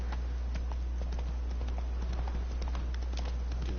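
Hooves of the horse Roach in The Witcher 3 clip-clopping steadily at a trot, a close, continuous patter of hoofbeats over a low rumbling background with no talk.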